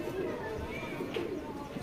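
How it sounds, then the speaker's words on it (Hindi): Imported Teddy pigeons cooing softly in a loft, a low, gentle warbling under faint background sound. "बहुत ही अच्छे कबूतर है दोस्तों ये,"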